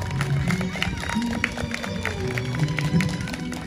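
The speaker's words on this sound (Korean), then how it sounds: "여러분 양가의 정성이 합쳐질 때 따뜻한 박수 부탁드립니다" Guests at a Korean wedding in Yeosu clap warmly during the sand ceremony, a moderate scattered round of applause mixed with background music and crowd murmur and occasional voices.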